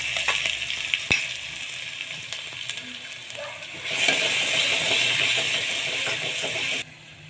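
Green chilli, crushed garlic paste and curry leaves sauté in a kadhai for a dahi kadhi, giving a steady close sizzle with a few utensil clicks, then a louder burst of frying that swells midway and cuts off sharply near the end.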